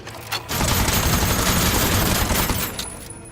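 Game weapons in Aether & Iron erupt in a dense, loud volley of rapid gunfire, a sustained burst of overlapping shots lasting a couple of seconds before cutting off, with no speech.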